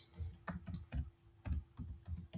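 Quiet, rapid typing on a computer keyboard while entering a Windows command: a close run of soft, uneven key clicks.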